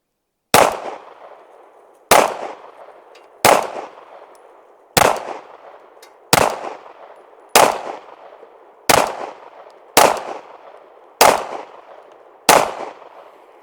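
Derya Arms DY9Z firing Blazer 115-grain rounds: ten sharp, loud shots, evenly spaced about a second and a half apart, each followed by a brief decaying echo.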